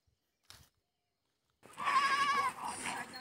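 After a short click and a moment of silence, a single sheep lets out a loud, quavering bleat lasting over a second, close by.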